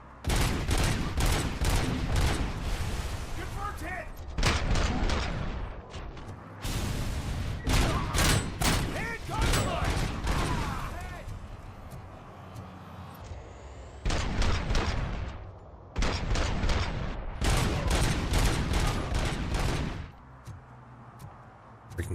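Rapid bursts of gunfire from snipers and other weapons in the video game Robocop: Rogue City, loud dense volleys repeating in clusters with short gaps, close and harsh, with no talk over them.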